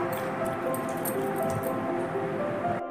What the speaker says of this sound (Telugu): ఫస్ట్ టమాటాల్లో 1 స్పూన్ వేసి చేతితో బాగా స్మాష్ చేసుకోవాలి.